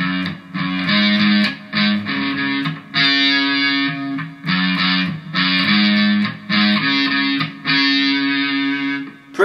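Guitar plays the single-note intro of a song, a repeating phrase of picked notes in short bursts with brief gaps between, bright and upfront with a slightly driven tone.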